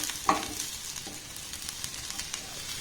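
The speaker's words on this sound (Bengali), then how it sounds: "এবার আমি সবজিগুলোকে একটু সাইড করে রাখবো এই দেখুন এক সাইড করে আমি সরিয়ে দিলাম" Vegetables are pushed to one side of a hot frying pan, one scrape followed by a softer one over a steady sizzle, close up, with no talking.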